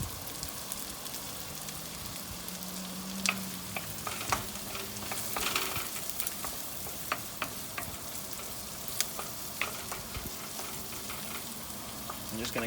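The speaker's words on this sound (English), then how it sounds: "I'm going to use the wooden spoon rather than tossing because I want to keep that heat source in contact with the pan" Stir-frying fried rice ingredients in a pan on a Weber Spirit II E320 gas grill side burner, with a constant crackling sizzle and wooden spoon scrapes and taps. Close and steady throughout, with no clear talk.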